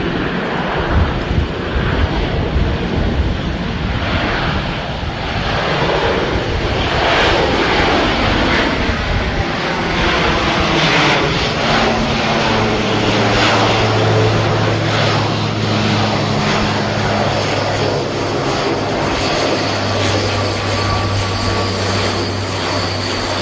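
Loud, continuous roar of ShinMaywa flying boat engines with a deep propeller drone and gusts of wind buffeting the microphone, no voices.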